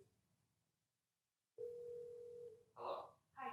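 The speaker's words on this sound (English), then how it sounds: "Julie calls Dave right from the same ticket" A phone line tone while a call is placed, a steady single-pitch tone holding about a second, followed by short bursts of ringing or voice-like sound.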